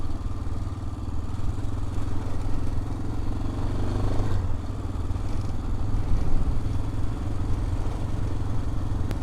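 A motorcycle on a road trip along the Transamazônica, its mid-pitched engine droning steadily with a rough, vibrating hum and wind rush throughout, near and continuous.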